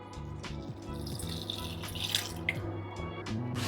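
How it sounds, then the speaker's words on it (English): Strong brewed Vietnamese coffee is poured into cupcake batter, a close liquid splash and dribble with a few bright drip-like plinks over a low background hum. "So we're going to dump that in."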